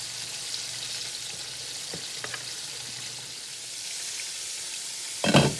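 Pork chops frying in a pan on a home stove, a constant close sizzle and crackle throughout, with a short clatter near the end and no talking.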